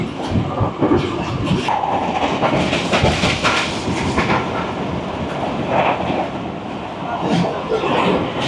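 A Rawal Express passenger train out of Rawalpindi runs at speed through Gujrat station, heard from on board as a loud, continuous rumble with rhythmic rail clatter. A voice is heard over it now and then.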